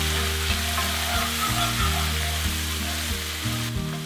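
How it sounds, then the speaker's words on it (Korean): Dry white wine deglazing a hot pan over high heat, a loud, continuous close sizzle with rhythmic scraping stirs roughly every half second, no voices. "물이나 드라이 화이트 와인 4큰술 정도를 강불에서 디글레이징을 해주세요"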